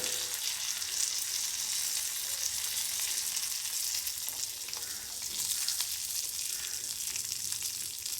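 Red chilies, curry leaves, coriander seeds and pepper frying in oil for ginger chutney, giving a steady crackling sizzle at moderate level with light stirring and no speech.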